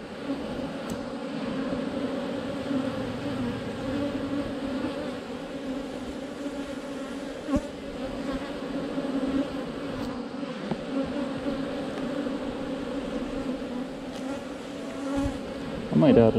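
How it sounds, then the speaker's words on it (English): A dense, steady hum of many bees buzzing close around a hive, continuous throughout with faint brief knocks near the end. "Lots of bees."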